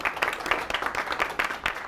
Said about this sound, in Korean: 우리 새로운 그 정보를 알려준 친구한테 박수를 칩니다